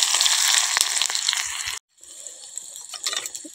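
Mustard seeds hitting hot oil in a pan, a dense crackling hiss that cuts out briefly, then resumes as fainter scattered popping.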